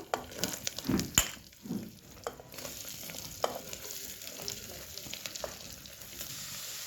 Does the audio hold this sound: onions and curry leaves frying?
yes